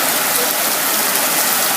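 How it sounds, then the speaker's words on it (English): A steady, loud rush of floodwater in a swollen river, broadband and continuous like a torrent close by, with no voices. "Look at the water that is flowing here."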